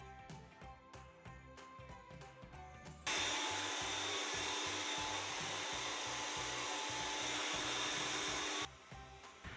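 A hair dryer blow-drying curly hair during styling. It roars loud and steady for about six seconds, with quieter handling and clinking sounds before and after.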